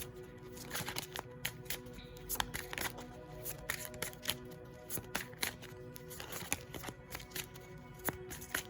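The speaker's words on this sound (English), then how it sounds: "So let me pull a couple from the Romance Angel for you guys" Romance Angel oracle cards being shuffled and pulled from a deck, giving a steady, close rustle of card stock broken by sharp flicks and taps, with no voices.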